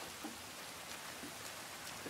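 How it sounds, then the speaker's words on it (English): Rain falls outdoors in The Last of Us, a soft, steady hiss with faint scattered drips, low and even throughout, no voices. "This rain ain't gonna do us any good."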